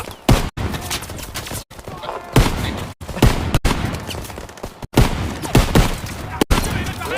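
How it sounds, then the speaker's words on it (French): Gunfire fills a battle in the video game Call of Duty WW2, with dense rapid shots and bursts that break off in several sharp cuts, loud and close, alongside game effects. "On me tire dessus."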